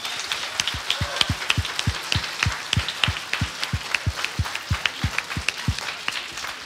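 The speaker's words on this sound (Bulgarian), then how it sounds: "Моля аплодисменти за тези талантливи деца." An audience at a school concert claps in steady unison for awarded children, a rhythmic series of loud, evenly spaced claps at roughly three per second, with a softer wash of scattered clapping underneath.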